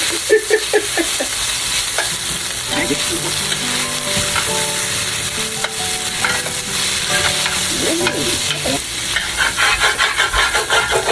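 Loud, steady sizzling of lo mein noodles with smoked turkey and broccoli stir-frying in oil in a pot, with scraping and clanking of a utensil stirring and tossing against the pot bottom throughout.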